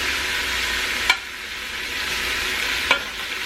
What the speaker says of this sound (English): I'm just browning the oxtails, okay?